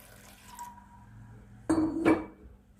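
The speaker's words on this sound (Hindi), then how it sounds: "दो गिलास पानी था वो हम इसमें शामिल कर लेंगे।" A short, close splash of two glasses of water poured into a metal cooking pot of aloo mattar qeema, lasting under a second after a quiet lead-in.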